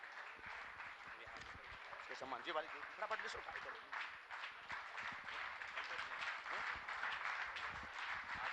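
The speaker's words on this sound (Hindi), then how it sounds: "आपकी तालियां अनवरत जारी रहना चाहिए" An audience at a Jain religious gathering keeps up a dense, continuous patter of applause, heard faint and a little distant, while someone speaks over it.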